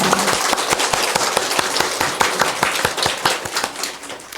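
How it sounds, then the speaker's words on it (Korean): A church congregation claps during worship as an offering of glory to God, loud crisp hand claps in a fairly regular beat, many hands together with sharp individual strikes, and no voices over it. "주님께 우리 오늘 이 예배에 임재하시는 주님께 우리 두 손을 다 드셔서 주님께 영광의 박수 올려드리겠습니다"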